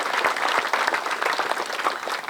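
Steady, dense applause from a large crowd at an outdoor Memorial Day ceremony in Fort Walton Beach, Florida, loud and continuous throughout.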